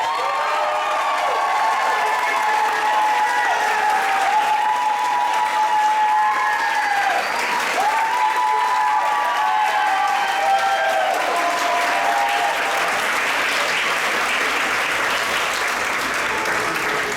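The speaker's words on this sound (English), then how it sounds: "Let's please give a big round of applause for the Cottrell family." An audience gives the Cottrell family a sustained round of applause at a summer band gathering held in their backyard, with steady clapping mixed with cheers and whistles building toward the end.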